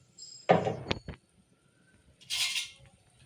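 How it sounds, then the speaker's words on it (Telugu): Metal spoon stirring melting sugar caramel in a pan on a medium stove, a few quick scraping clinks followed by a softer sizzling rasp, close and sparse with quiet gaps. "కాస్త కరిగిందంటే మనం చెంచ పెట్టేసి కలుపుకుందాం"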